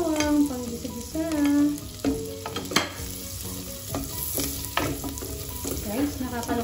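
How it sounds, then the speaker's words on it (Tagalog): Garlic sizzling in cooking oil and butter in a pan, a steady close crackle with intermittent stirring scrapes and clinks of a utensil. "nilagyan ko na siya ng mantika, angking mantika, at butter. So, ang next natin is bawang."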